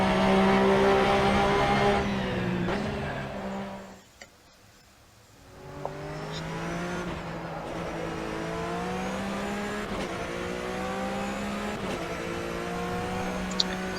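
Race car engine in the Assetto Corsa Competizione racing game, revving steadily with pitch rising and falling through gear changes, briefly dropping off before climbing back to a sustained loud drone, heard alone.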